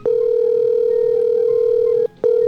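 A telephone line tone sounds while someone calls a person, one long steady electronic tone lasting about two seconds, then a short gap and the tone starting again, loud and clear with no talk over it.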